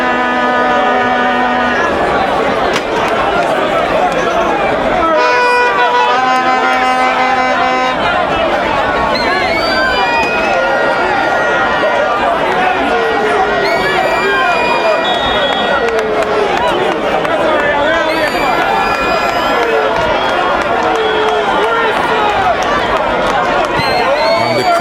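A football crowd at a Mount Pleasant FA versus Dunbeholden league match calls for the final whistle in the dying moments, with a dense, continuous roar and babble, whistles and horn blasts, and commentary talking over it.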